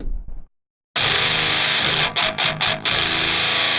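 An electric guitar plays through a Boss DS-1 distortion pedal, a brief quiet note, a short silence, then a loud sustained distorted chord with a few choppy breaks, with no voice.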